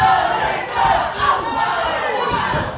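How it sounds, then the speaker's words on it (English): A wrestling arena crowd roars and cheers after a near-fall kickout, a loud sustained swell of many voices with surges and shouts rising and falling throughout. "Listen to this crowd."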